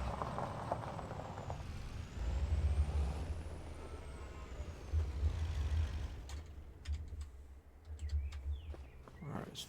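A heavy milk truck in Farming Simulator 25 rumbles with a low engine drone, with a rising whine and hiss, then a few clanks and thumps as it moves.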